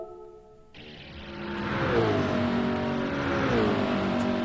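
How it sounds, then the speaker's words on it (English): A race car engine in the Gran Turismo 7 video game revs up and holds a loud, high droning tone, pitch rising and dipping slightly as it accelerates, close and alone without talk. "I'm going to put my headphones on just so I can actually hear the car sound."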